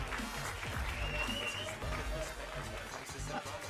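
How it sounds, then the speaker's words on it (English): Audience applause at an eFootball Championship 2024 World Finals knockout event, a steady, dense wash of clapping and crowd noise that holds throughout, with cheering voices mixed in. "Once again, round of applause."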